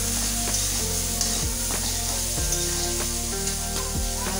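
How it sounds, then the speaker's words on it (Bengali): Green peas lightly frying in oil, a steady close sizzle with soft stirring scrapes and faint tonal hum from a kitchen appliance running underneath, no talking. "হালকা একটু ভেজে নেব মটরশুঁটি"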